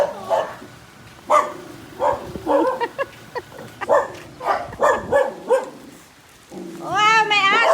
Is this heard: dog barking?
yes